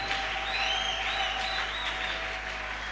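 Church congregation clapping and calling out acclamations at a French and Swahili sermon service, a steady wash of applause with whistle-like cries over a constant low hum, moderately loud throughout.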